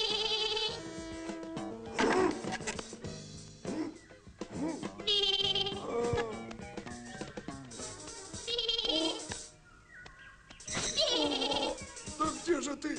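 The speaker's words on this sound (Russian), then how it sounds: "Коза пожаловала." A goat in a 1987 Georgian animated cartoon bleats in a series of wavering, nasal calls over music and other cartoon sounds, fairly close and moderately loud.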